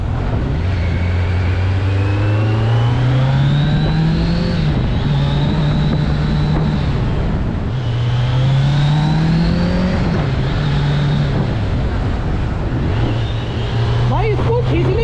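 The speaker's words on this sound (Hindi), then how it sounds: "थोड़ा बाइक को भगाते हैं बिकॉज आज ये मौका मिला है थोड़ा।" A Kawasaki Z900 superbike accelerates hard on a road, its engine climbing through rising revs, dropping at gear changes and surging again, loud and close for the whole stretch.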